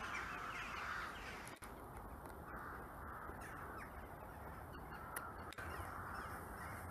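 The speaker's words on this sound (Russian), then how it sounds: "И вороны." Crows caw over a dense, steady outdoor hiss by an autumn pond; the calls are faint and distant within the noise.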